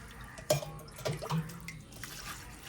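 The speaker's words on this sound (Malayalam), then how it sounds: "ഓർക്കിഡിനും ഈ വളം ഞാൻ കുറേശ്ശേയായിട്ട് ഒഴിച്ചു കൊടുക്കുകയാണ്" Liquid fertilizer poured a little at a time onto potted orchid plants, soft faint splashes and drips in a few short bursts against quiet background.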